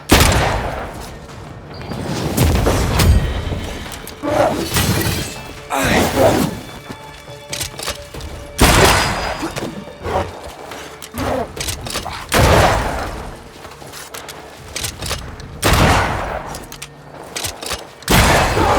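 Gunfire in the video game Banishers: Ghosts of New Eden at Fort Jericho comes as repeated loud volleys and booming shots in bursts, separated by short gaps, with shouted voices in between.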